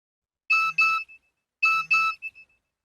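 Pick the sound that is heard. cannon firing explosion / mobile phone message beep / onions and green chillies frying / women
mobile phone message beep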